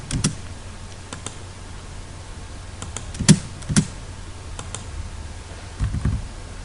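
A few keystrokes on a computer keyboard while working in AutoCAD Civil 3D: sparse single clicks, then two firmer taps close together mid-way, quiet over a faint room hum with no talking.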